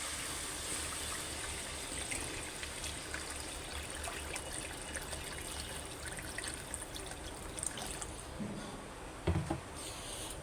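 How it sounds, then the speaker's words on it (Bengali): Water pours into a pan of fish curry that has been cooked down in oil, making a faint, continuous trickling rush, with a couple of soft knocks near the end. "এবার আমি একটু পানি দিয়ে দেবো।"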